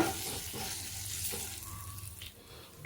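Mustard seeds, cumin and split lentils crackle in hot oil as a tempering for an onion spinach curry, a dense close sizzle with faint pops, brief and without speech.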